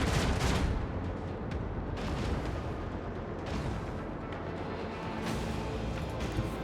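A torpedo salvo launches in Warhammer 40,000: Rogue Trader, a heavy opening blast followed by a rumbling barrage of booms and thuds that keeps rolling at high volume.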